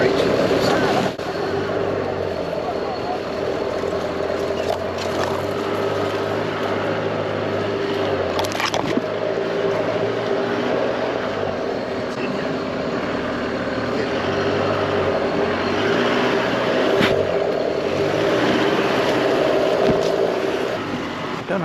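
A 4x4 crawls slowly over rocks on a Sunshine Coast bush track near Curra, its engine a steady low drone for the whole stretch with faint knocks from the terrain, and voices murmur now and then above it.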